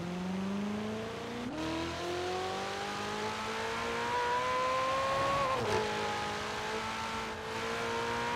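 Engine of a Ferrari Portofino in a racing video game, a steady sustained drone that climbs in pitch, with abrupt drops and jumps at two or three gear shifts, loud and continuous throughout.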